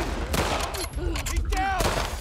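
Gunfire in The Last of Us Part II video game: a dense, continuous fusillade of loud shots during an attack on the water, with faint shouting voices mixed underneath.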